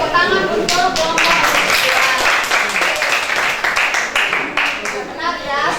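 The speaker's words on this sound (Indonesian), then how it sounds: "yang lain tepuk tangan untuk kelompok" Students in a classroom clap together for a presenting group, a dense burst of many hands lasting several seconds, with children's voices and chatter mixed in.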